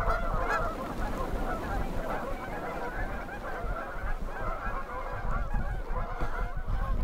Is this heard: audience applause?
no